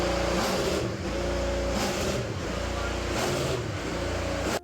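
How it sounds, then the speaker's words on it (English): A McLaren IndyCar engine is tested in a garage at Laguna Seca in Monterey, a loud, steady, harsh mechanical drone with pulsing rises that cuts off abruptly at the end. "At the time, they were testing Nolan Siegel's car,"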